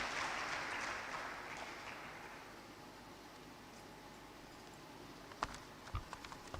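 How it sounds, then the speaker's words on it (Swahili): Applause from an audience at a health summit in Tanzania, a broad wash of clapping that is loudest at the start and fades to a softer patter, with a few isolated claps near the end. "Naomba makofi mengi kwa mama yetu huyu."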